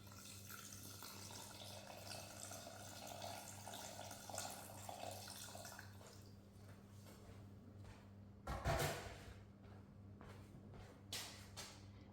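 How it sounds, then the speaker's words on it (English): Water poured into a Thermomix TM7 bowl for a chicken pasta, a short splashing pour near the end over a quiet kitchen background hum. "And then we're just going to pop in some water."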